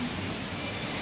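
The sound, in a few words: rain falling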